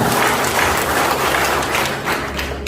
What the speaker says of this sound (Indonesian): tepuk tangan dong buat ya